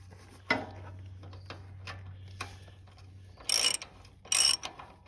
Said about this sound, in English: now he's got a wrench on there.